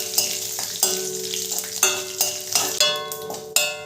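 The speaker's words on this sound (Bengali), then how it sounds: "নেড়ে চেড়ে ভালো করে একটু ভেজে নেব।" Black mustard seeds and curry leaves tempering in hot oil for a dosa and idli chutney: a bright, crackling sizzle punctuated by sharp metallic clinks of a stirring spoon, close and clear.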